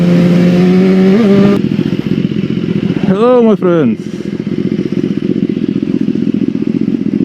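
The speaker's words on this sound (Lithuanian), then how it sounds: "Matau motociklą" Loud, steady motorcycle engine drone rides close throughout, with a quick rising-and-falling whine as another machine goes by, while someone speaks over the noise.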